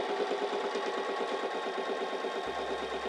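A SINGER Simple 3337 sewing machine runs a straight stitch under foot-pedal control. Its needle makes a fast, even mechanical chatter at close range, which stops abruptly near the end and leaves a low hum.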